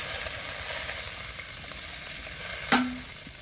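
Green chilies and a little chili powder frying in a pan for a fish curry base, a soft steady sizzle with faint stirring and one brief sharper clatter near the end.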